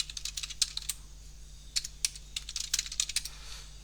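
A command being entered on a computer keyboard at a Windows command prompt during a MySQL install: steady clusters of bright key clicks with short gaps, close up over a constant low electrical hum.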